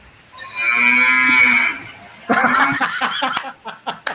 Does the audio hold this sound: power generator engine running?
no